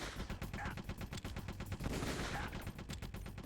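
Gunfire in the video game Metal Gear Solid: The Twin Snakes during a tournament match with a moving tank: a dense, rapid string of sharp, evenly spaced shots, fairly quiet, firing continuously.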